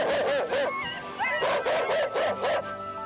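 A Hokkaido dog at a 1980s hunting dog trial, bold enough to face a brown bear, barks in several loud, rapid bursts close by, with short pauses between the volleys and a thin whine in the gaps.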